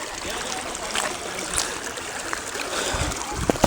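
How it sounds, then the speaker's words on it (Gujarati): A village river flows steadily, a continuous broad wash of moving water with small splashes and trickles, fairly close and with a few louder bumps toward the end. "આપણા ગામની નદી છે અને આ જો પાણી હેલું જાય છે કેવું હેલું જાય છે"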